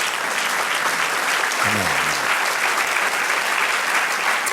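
A church congregation claps steadily in a continuous wash of applause throughout, and a voice briefly calls out over it partway through.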